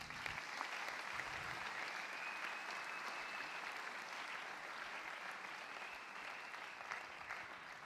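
A church congregation at a mass prayer service applauds, with sustained, even clapping that carries faintly and steadily throughout, with no speech above it.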